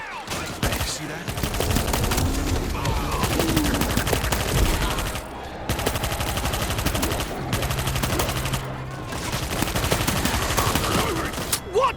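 Sustained automatic gunfire in the zombie shooter World War Z, rapid machine-gun bursts rattling almost continuously at close range with brief pauses between volleys and occasional voices beneath.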